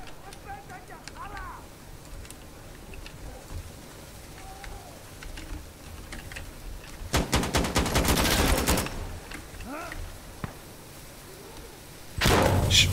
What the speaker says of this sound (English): A frag grenade.